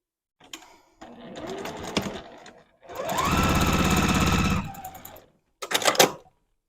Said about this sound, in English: We are going to continue through and sew each row together, and then we will sew our rows to each other.